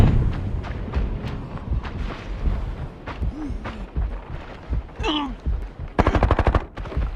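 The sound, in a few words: gunfire in video game Arena Breakout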